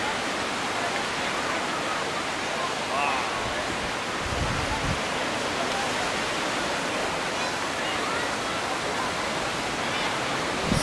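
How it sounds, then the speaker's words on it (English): Ocean waves roll in at Tanah Lot in Bali as the tide comes in, a steady broad wash of surf filling the scene without pause, with a brief low thump partway through. "Look at the waves in the background."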